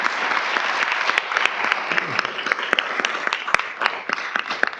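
Audience applause fills a board meeting room, a steady dense patter of many hands clapping at close range with a few sharper individual claps standing out, running throughout with no talk over it.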